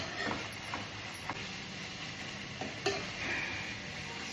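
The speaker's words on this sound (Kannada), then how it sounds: "ಸೊ ಇದನ್ನು ಸ್ವಲ್ಪ ಹುರ್ಕೊಳ್ಳಿ." Chilli chicken masala roasting in a pan, a steady soft sizzle with occasional scraping stirs and a few small ticks throughout.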